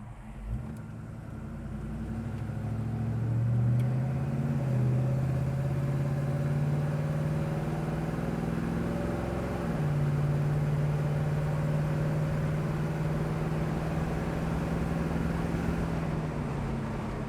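A 1972 Chevrolet Chevelle engine hums steadily while driving in traffic, its tone rising and settling as the car speeds up and the automatic transmission shifts, with road and tire noise underneath.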